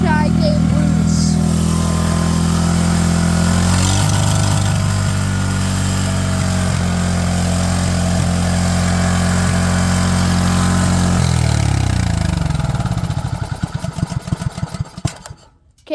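A small engine, apparently held at speed with a zip tie on the throttle, runs steadily with a buzzing idle and then drops in pitch as the RPM slows, sputtering and dying near the end, with voices in the background.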